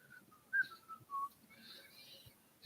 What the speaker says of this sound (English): Somebody is whistling there.